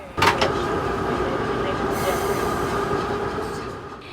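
A standard gauge railway locomotive hauls its train between Mombasa and Nairobi with a loud, steady rolling roar and a high wheel hiss, heard continuously from close by.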